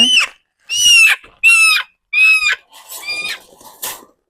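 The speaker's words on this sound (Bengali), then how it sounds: "এরকম তিনটা মুরগি এখনো আছে আমাদের" Domestic hens kept for eggs cluck loudly and close by in a run of five or six sharp, strained calls with brief gaps between them. No other sound is present.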